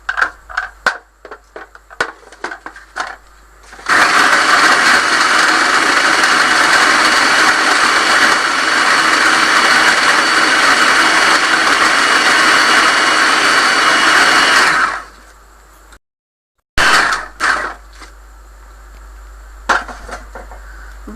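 Bread pieces with their crusts ground into a fine paste in an electric grinder, a loud steady roar lasting about eleven seconds, with softer clatters and knocks before and after.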